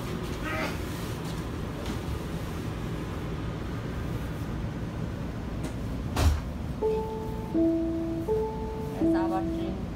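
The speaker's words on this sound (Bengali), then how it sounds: "আবার ট্রেন ছেড়ে দিচ্ছে।" Edmonton metro train pulling out of a station, with a steady low rumble inside the car, a single heavy thud midway, then a series of stepped electronic chime tones toward the end.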